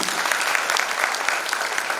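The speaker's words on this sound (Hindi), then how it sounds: "एक बार जोरदार तालियां आपने दी" Loud, dense applause from a large audience at a youth gathering at Shantikunj, a continuous wash of clapping that fills the whole moment.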